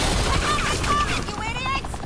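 Police gunfire in a Batman video game comes as rapid, loud volleys of shots, mixed with whistling tones and voices talking through the burst.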